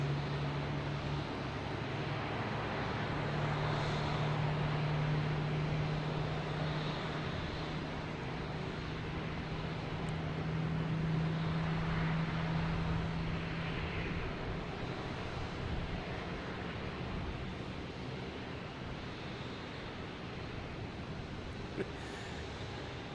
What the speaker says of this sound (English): Here's Alaska Airlines heading to Portland.